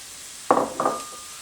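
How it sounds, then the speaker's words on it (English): Chopped garlic spread and stirred in a hot pan for South African savory mince, two quick spoon-and-pan scrapes with a brief metallic ring over a light sizzle. "You have to stir this continuously for about 3 minutes before you add the meat."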